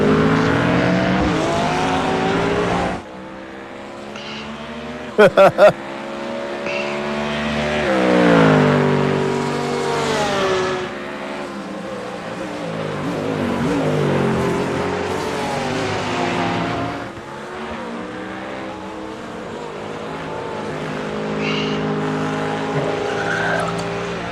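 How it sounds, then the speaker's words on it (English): Race cars lapping the Hockenheimring, their engines loud and continuous, rising and falling in pitch as they pass, with a brief sharp burst of rattling partway through. "I hear the race."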